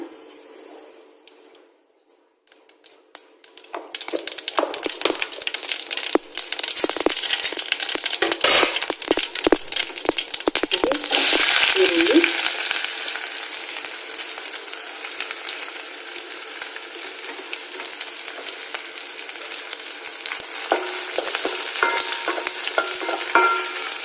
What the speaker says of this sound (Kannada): ಎಣ್ಣೆ ಕಾಯೋದಕ್ಕೆ ಇಟ್ಕೊಂಡಿದ್ದೀನಿ. ಇವಾಗ ಸಾಸಿವೆ ಹಾಕೋಣ.